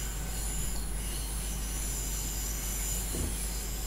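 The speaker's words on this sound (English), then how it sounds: "I know the train's screaming because it's going around a corner, and it doesn't like corners." Train wheels squealing as an S-Bahn train rounds a curve in Train Simulator 2, a continuous high metallic screech over a steady low rumble of rolling stock, loud and close throughout.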